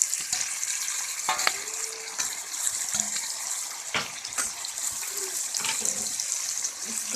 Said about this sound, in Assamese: পিঁয়াজখিনি ভাজা হৈ গ'ল। এতিয়া মই মাংসখিনি বহাই দিম।